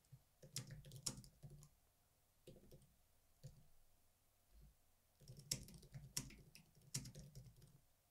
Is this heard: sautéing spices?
no